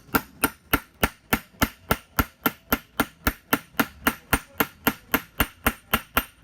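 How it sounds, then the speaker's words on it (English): Steady, even hammer blows strike a lead head piece set on a pendant, about three per second, sharp and close throughout with no talking. "hammer down, and you'll see it's starting to come out."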